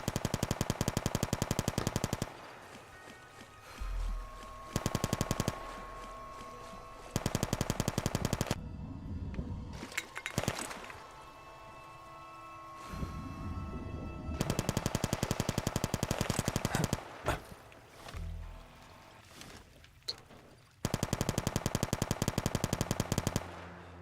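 Repeated bursts of loud automatic gunfire in Fallout: New Vegas, several long volleys separated by short pauses, close and dominant with scattered quieter in-game sounds between.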